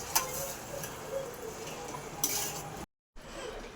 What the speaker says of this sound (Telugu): ఇప్పుడు కడిగి పెట్టుకున్న చేపని టమోటా దాంట్లో వేసేసి కలుపుకోవాలి, బాగా మిక్స్ చేసుకోవాలి